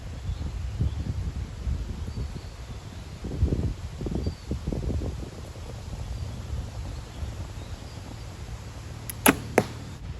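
An arrow shot from a recurve bow at a practice range, with a quiet outdoor background and two sharp, close snaps near the end as the string releases and the arrow hits.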